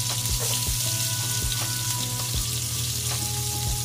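Garlic fries in a pan with a steady, loud sizzle that runs throughout, marked by occasional sharp ticks and pops, while sweet and sour lapu-lapu fish is being prepared.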